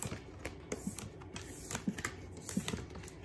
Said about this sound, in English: I'm gonna shuffle this up.